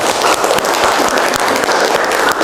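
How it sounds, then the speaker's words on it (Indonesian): Classmates in a school art lesson clap for a student who answered, a dense, continuous patter of many hands close by, steady throughout. "Silakan beri tepuk tangan buat teman kalian yang sudah bisa menjawab."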